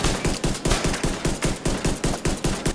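Pistol gunfire in a video game rings out as a rapid, evenly spaced string of loud sharp shots, roughly four per second, with no talking over it.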